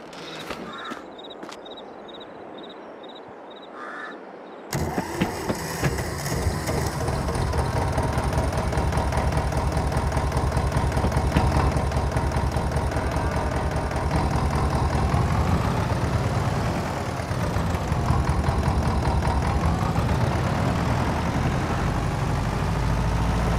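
A tractor engine in Farming Simulator 22 cranks and catches after a few quiet seconds of ambient sound, then settles into a loud, steady, knocking idle that runs to the end.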